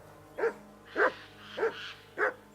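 A dog in the medieval game Kingdom Come: Deliverance 2 barks four times in evenly spaced, sharp, mid-distance woofs, alone with no talk.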